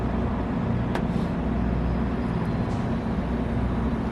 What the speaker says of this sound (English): The buses are starting to roll in.